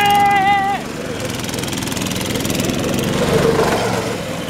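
A go-kart engine runs at a steady idle, a close, buzzing small-engine drone with a rough vibrating edge, preceded by a brief whistle-like tone and overlapping talk near the start.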